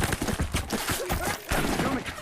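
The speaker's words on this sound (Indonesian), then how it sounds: "seseorang menembakkan pistol suar dan menembak ke arah mereka" Gunfire and a flare pistol shot in a film scene sound as bursts of sharp, loud cracks in close succession, over busy background sound.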